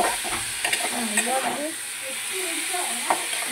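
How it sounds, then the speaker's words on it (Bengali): Fish curry being stirred and fried with spices in hot oil, a steady sizzle and hiss with scraping stirring strokes, close and moderately loud, with no talk over it. "ভালো করে কষানো হয়ে গেল, কষাচ্ছি তোমাদের সামনে"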